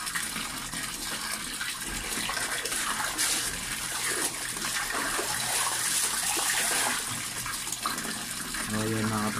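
Laundry being washed by hand in water, a continuous loud sloshing and gushing with splashes throughout, close by, and a voice speaks briefly over it.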